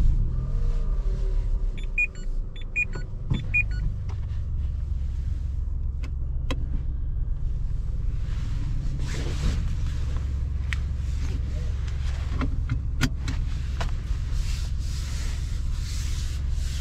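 Inside a 2022 Dacia Jogger with a 1.0 TCe petrol and LPG engine of 100 hp as it drives: a steady low road rumble and engine drone fill the cabin, with occasional clicks and rubbing noises from the interior.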